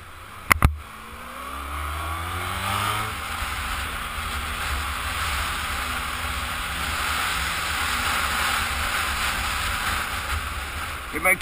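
A Honda VFR1200 motorcycle engine climbs sharply in pitch through a short rev, then the throttle eases off into a steady, moderately loud running drone with wind noise.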